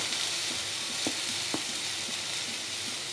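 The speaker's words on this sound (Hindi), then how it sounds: "अब हम इसमें एक बारीक चॉप किया हुआ प्याज ऐड करेंगे, एक शिमला मिर्च ऐड करेंगे" Finely chopped onion and capsicum fry in hot oil with a constant close sizzle, broken by a couple of quick utensil taps as the pan is stirred. No one speaks.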